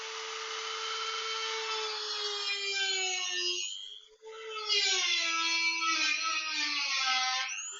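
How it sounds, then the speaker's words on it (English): A small Dremel rotary tool fitted with a sanding wheel grinds a metal washer, giving a steady high-pitched whine that briefly drops away around the middle before resuming, close and loud with no talking. "I'm just using a little sanding wheel on it"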